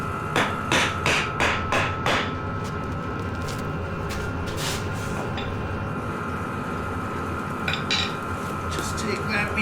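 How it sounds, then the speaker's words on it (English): A mallet strikes a block of wood to knock the rear wheel free on a Beta 390 RRS dirt bike. A quick burst of about half a dozen sharp, close knocks comes first, then a few scattered blows follow. "I'm gonna take a block of wood and a mallet"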